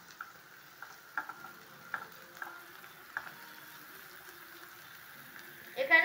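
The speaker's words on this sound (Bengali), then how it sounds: "পেঁয়াজ গুলো একটু হালকা করে ভেজে নিচ্ছি" Chopped onions and green chilli frying lightly with salt in a pan give a quiet, soft sizzle. Spatula taps land at intervals, and a louder stir comes near the end.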